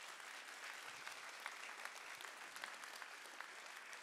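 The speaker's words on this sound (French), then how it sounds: "ce sont des applaudissements qui vous disent toute notre reconnaissance" An audience applauds steadily at a 2020 New Year's greetings ceremony, a dense wash of many hands clapping heard from a distance at low level, with no voices over it.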